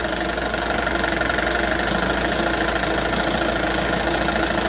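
A 1978 Johnson 6 hp outboard motor fitted with the wrong spark plugs runs close by, its loud, steady idle thrumming with an even, rapid pulse throughout.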